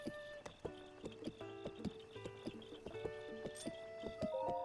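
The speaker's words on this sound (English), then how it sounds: "you get separated from a horse, but you can whistle, and it will continue running" A horse gallops in The Legend of Zelda: Breath of the Wild, with rapid rhythmic clip-clop hoofbeats close up over soft game music tones, continuous and moderately quiet.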